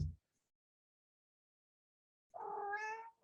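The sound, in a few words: man imitating a cat meow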